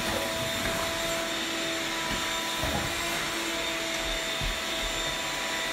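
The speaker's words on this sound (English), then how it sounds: "first I gotta vacuum up all this dust" A vacuum cleaner runs steadily and loudly throughout, a constant whine with a faint hum beneath, sucking up dust in a bedroom being prepped for paint.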